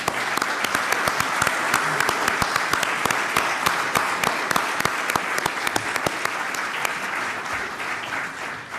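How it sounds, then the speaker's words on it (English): An audience at the 2015 Bermuda Sports Awards gives sustained, dense applause, with many hands clapping loudly and continuously and sharp individual claps standing out. "can we have a round of applause to celebrate them?"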